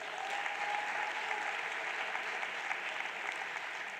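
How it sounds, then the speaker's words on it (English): Sustained, even crowd applause fills a large hall at a national exam results announcement, heard at a distance with no breaks. "Another round of applause, please."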